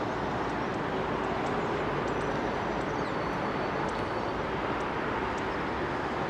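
Ex-KLM Boeing 747 Combi freighter converted to cargo, departing Heathrow, a steady loud broadband jet engine roar that holds throughout, with faint whining tones on top and no voices.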